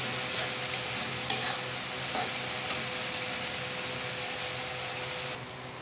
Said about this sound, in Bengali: এই মশলাটা আগে এইভাবে একটু ভালো করে কষিয়ে নিতে হবে